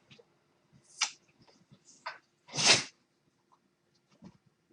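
A single sharp sneeze bursts out near the middle, loud and close, set among quiet scattered clicks and small handling noises in an otherwise hushed room.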